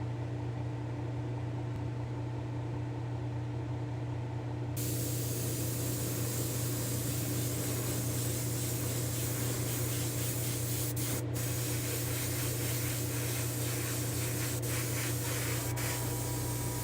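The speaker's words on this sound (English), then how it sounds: "So I'm going to go spray right now" An aerosol can sprays charcoal metallic paint onto a diecast Rocket League Honda Civic, a steady close hiss that starts after a low hum and runs on without a break, with brief pauses near the end.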